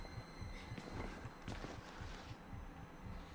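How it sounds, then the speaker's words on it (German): Low, throbbing heartbeat of an approaching enemy in the horror game Outlast, quiet, repeating pulses in a steady rhythm over a dim ambient hum. "Boah, ich höre schon den Herzschlag von dem."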